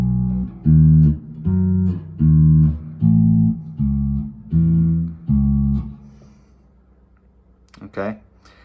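Electric or acoustic guitar plays a blues phrase: seven loud, evenly spaced chord-like notes in a steady rhythm, then a ringing fade and a faint closing pluck, close and alone with no talking.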